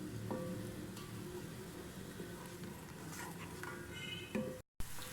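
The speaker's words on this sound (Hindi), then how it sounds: "2 से 3 मिनट तक हम इनको अच्छी तरह से सौते कर लेंगे।" Tomato puree with chili flakes, oregano, salt and black pepper sizzles steadily in a pan, with soft stirring scrapes and a brief cut near the end.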